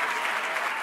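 Brief, dense applause from a large sold-out audience at an evening conversation event, a continuous wash of clapping heard from within the hall.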